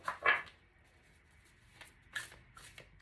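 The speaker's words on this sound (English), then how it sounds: "So let me try to shuffle." Large tarot cards are shuffled by hand, a few quiet riffling bursts separated by pauses, faint and close against a near-silent room.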